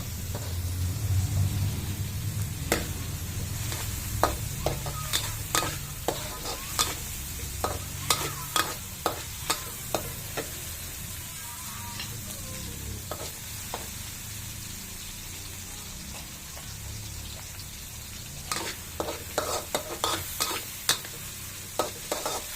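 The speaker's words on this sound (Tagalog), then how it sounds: "Haluin natin, guys, para hindi siya masunog." Shrimp paste (bagoong) sizzles in a pan while a utensil stirs it. Sharp scraping taps recur in irregular bursts over a low steady fry, close and fairly quiet, with no talk.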